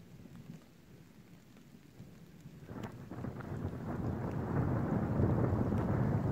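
Thunder rumbles through a storm in Finland with steady rain, starting quieter and swelling into a loud, continuous roar of rainfall and low rolling thunder by the end, with no voices.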